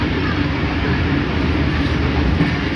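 The Tezgam Express travelling from Karachi to Lahore, heard from on board as a loud, continuous low rumble with rhythmic wheel clatter, steady and close throughout.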